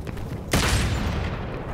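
Gunfire from the video game Devil May Cry 5: a sudden loud blast about halfway through rings out into a dense, sustained burst of shooting after a quieter lead-in.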